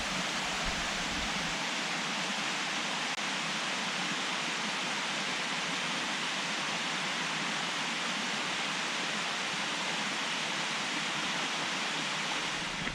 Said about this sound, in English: there were some lovely waterfalls beside the path